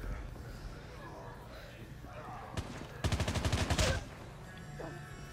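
Rapid burst of automatic gunfire in the Call of Duty Mobile video game, a single loud rattling volley of about a second after a lone earlier shot, with a voice talking around it.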